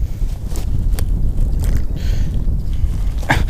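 Strong wind buffeting a lake bank, with loud, gusty rumbling across the whole span and a few brief rustles and knocks.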